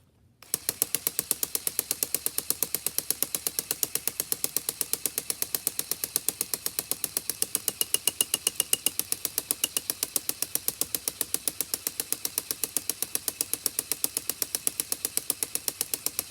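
A LEGO pump driven by a large actuator runs steadily, making a rapid, evenly spaced mechanical clicking and ratcheting that keeps going without a break at close range.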